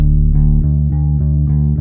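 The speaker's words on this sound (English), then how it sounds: "And together, the 2 basses sound like this." Deep bass guitar notes and a rumbling sub bass play together in a steady low groove for a modern pop track, loud and close, with plucked attacks about every third of a second.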